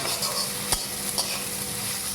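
Small fish for a Bengali chorchori fry in a pan with a steady, close sizzle, broken by two short scraping stirs of a spatula.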